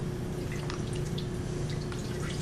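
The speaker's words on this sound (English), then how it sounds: "I'm just going to put a towel in here, get it wet." A towel soaking in a mix of isopropyl alcohol and water, with a steady wet trickle and soft dripping of liquid close by, alone and without talk.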